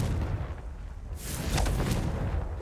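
A fiery Confringo spell blast in Hogwarts Legacy, a burst of explosive rumble and crackle rising midway through a short, dense game soundscape with a brief whoosh.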